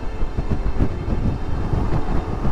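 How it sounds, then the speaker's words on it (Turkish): Strong wind on Mount Nemrut, Adıyaman, buffets the microphone in a steady, loud, low roar with gusty pulses throughout. "O kadar rüzgar var ki uçurabilir miyim bilmiyorum"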